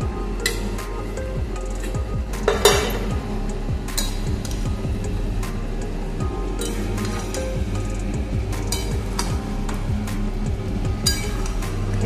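A spoon stirring chicken curry with potatoes and milk in a pan, giving repeated metallic clinks and scrapes against the pan over a steady low hum of cooking, close and moderately loud with no talking.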